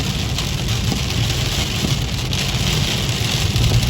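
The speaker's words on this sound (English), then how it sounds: "I got some rain." Steady rain falls outdoors on a cold day of about 39 degrees, a loud and even hiss on surfaces nearby that goes on without a break and with no voices over it.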